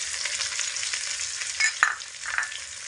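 Onion and ginger paste fry in a pan while being stirred, a dense hiss of sizzling with scraping stir strokes and a couple of sharper pops near the end.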